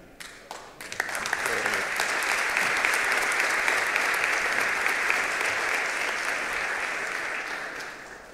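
Audience at an academic lecture on constitutional law and human rights breaking into applause for a speaker, warm sustained clapping that swells within the first second and holds steady, with a voice briefly audible at the start.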